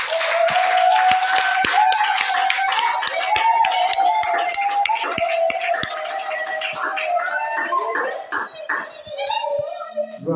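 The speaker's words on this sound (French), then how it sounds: "Applaudissez." Church congregation clapping along during French-language worship, a steady beat of hand claps under sustained singing and shouting voices that fades into scattered calls toward the end.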